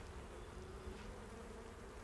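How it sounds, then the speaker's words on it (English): Flies buzz over a mass grave in the video game Hell is Us, a faint, continuous droning hum with no other sounds. "You can hear the buzzing of the flies."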